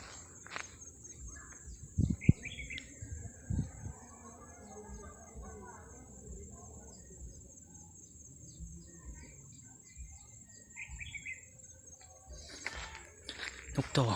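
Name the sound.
wild red-whiskered bulbuls singing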